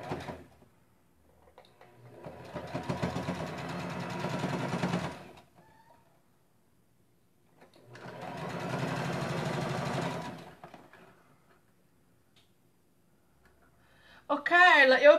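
Sewing machine stitching a small strap for a handbag, running in two separate bursts of rapid mechanical clatter a few seconds each, with quiet pauses between and a voice speaking briefly at the end.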